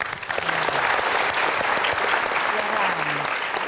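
An indoor audience applauds at a talk show event, with brisk steady clapping throughout and faint voices mixed in underneath.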